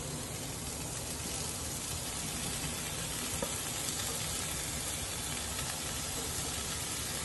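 Paneer bhurji masala frying in a pan, village style, a steady close sizzle with soft stirring scrapes running evenly throughout, no voices over it.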